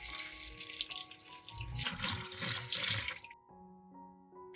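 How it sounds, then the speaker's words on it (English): Running water pours steadily from a tap into a pot of eggplant for about three seconds, then cuts off, leaving a faint hum and a soft clatter. "Then add enough water to cover the eggplant."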